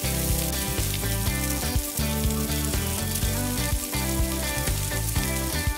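Paprika and spring cabbage sizzle loudly in a pan while being stir-fried, the frying dense and continuous, with a repeating pulsed sound running underneath.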